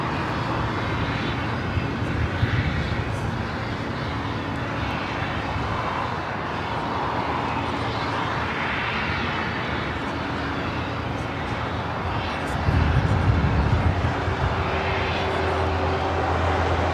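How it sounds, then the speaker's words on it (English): An Air Canada Boeing 737 MAX 8 takes off from LAX bound for Vancouver, a sustained distant engine roar with low rumble swelling near the end, over outdoor ambience. "Next takeoff, Air Canada, flight 559 heading to Vancouver,"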